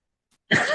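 A single short, sharp sneeze bursts out abruptly after near silence, close and fairly loud.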